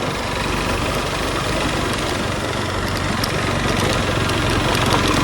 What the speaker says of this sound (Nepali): म बाइकमा माथि आउन लागिसकेँ